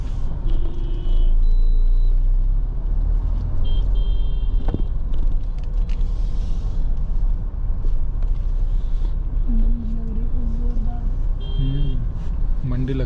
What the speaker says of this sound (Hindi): अब यहाँ से स्टार्ट होता है ट्रैफिक।